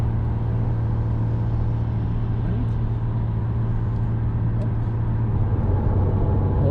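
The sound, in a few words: Porsche 911 Carrera S driving on highway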